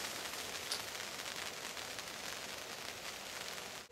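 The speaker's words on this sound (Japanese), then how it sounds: "風が強くなって、少し雨も降り出しましたね。" Light rain falls and strong wind blows at a solo campsite in Sugi no Furusato Park, making a steady, even hiss of soft patter with no talking.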